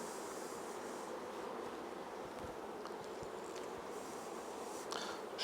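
Honey bees around open hive frames, a dense continuous buzz from many insects, close and steady throughout.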